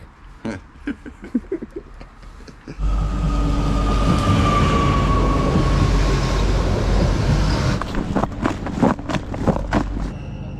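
A train rumbles past up close, a loud sustained roar with a high screech, starting abruptly after a few seconds and fading into clattering noise near the end.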